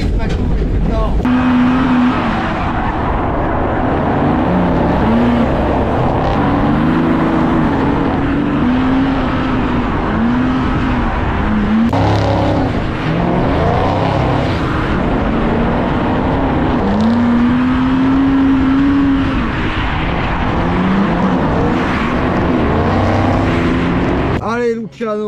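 A Ford Mustang engine drones and revs loudly through a drift session, its pitch rising and falling continuously for about 25 seconds, with voices talking over it.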